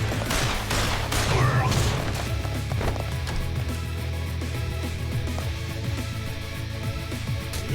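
Rapid gunfire in Yakuza Kiwami 2, a dense burst of loud shots and sharp impacts in the opening seconds that thins into scattered hits over a steady game background.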